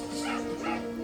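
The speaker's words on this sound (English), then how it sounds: "Dog, you bad dog! Stop!" A dog in a TV show gives short yipping barks and whimpers, close and fairly loud, with a voice mixed in.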